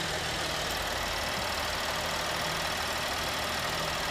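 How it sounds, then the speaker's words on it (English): A 2015 Chevy Traverse with a 3.6-liter engine idles steadily with the hood open, giving a constant, dense mechanical hum and fine ticking throughout, close up and with no talk. "Strong working engine."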